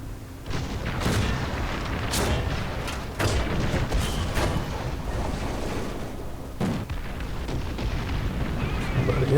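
Cannon fire from a T-34 1942 medium tank battle in War Thunder, several heavy booms spaced a few seconds apart over a continuous rumbling engine and battlefield din, close and loud.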